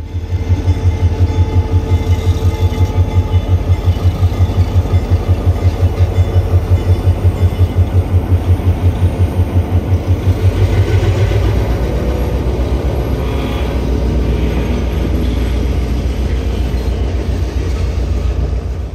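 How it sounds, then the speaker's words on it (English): A log-carrying freight train rolls slowly into an interchange yard in North Carolina, loud and close, with a heavy low engine rumble and steady rhythmic wheel clatter that eases into a softer rolling rumble. "they slowly bring their train into the interchange yard"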